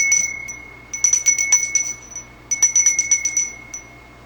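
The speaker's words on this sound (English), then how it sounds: "we'll ring the bell 3 times to close our sacred time" A small ritual bell rings during a Wiccan autumn equinox ceremony. Bright, high-pitched strikes come in quick clusters, with a lingering tone before them and a pause between the bursts.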